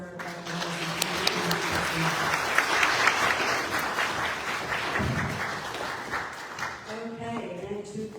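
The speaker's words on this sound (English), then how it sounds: "One more round of applause for" Audience at an age-friendly community workshop applauding, a full burst of many hands clapping that swells and then tapers, with a voice speaking briefly at the start and again as it dies down.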